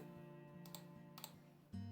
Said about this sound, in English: I'm sorry if you can hear this clicking noise by the mouse, by the way. It's a new mouse, but it's very loud